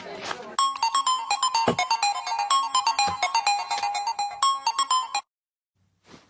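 A phone rings out on an outgoing call, a repeating electronic ringtone melody pulsing steadily for about five seconds, loud and close, then stopping abruptly before a brief faint noise.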